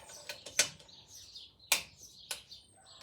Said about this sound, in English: we're going to go around and just slacken off these head bolts